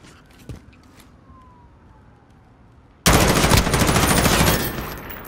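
Gunfire in Call of Duty: Modern Warfare, starting abruptly after a quiet stretch with faint distant pops, then loud rapid automatic bursts close by that run for about two seconds before easing slightly.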